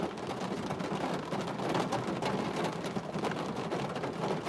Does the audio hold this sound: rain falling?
yes